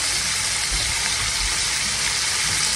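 Garlic sautéing in a pan for fried cabbage: a loud, steady sizzling hiss with no pauses, up close and without talk.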